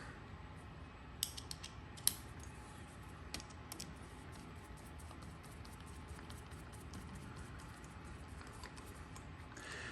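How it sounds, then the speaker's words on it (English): A screw is tightened to lock a rail onto the barrel of a SCAR MK17 rifle clone, giving a quiet run of small metallic clicks and ratcheting ticks, close but faint, with no talking. "using this screw, just going to lock that back in place"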